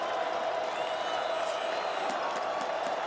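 A loud football stadium crowd at an FCS quarterfinal, Montana State against Stephen F. Austin, roars in a dense, continuous wash of cheering and noise with no break.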